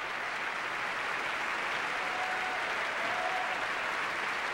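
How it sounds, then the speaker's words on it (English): An opera audience at a 1992 Rossini gala applauds, a dense, steady wash of clapping from a large crowd that holds at an even level throughout, with no talking. "Deborah Voigt and Kathleen Kuhlman returning, recalled by the applause of the audience and the chorus."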